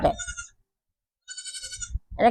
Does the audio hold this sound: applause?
no